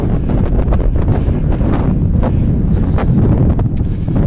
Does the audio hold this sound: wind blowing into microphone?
yes